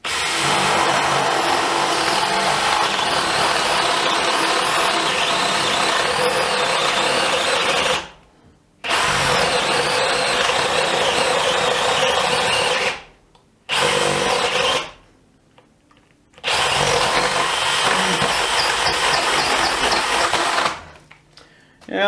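A DEWALT DCD701 12V brushless drill driver bores into hard decking in long, loud, steady runs of motor whine, broken by short pauses where it stops or stalls.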